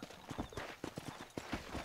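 Horse hooves clip-clop in a steady, slightly uneven trot in the video game Red Dead Redemption, each hoofbeat close and distinct over a low ambient bed.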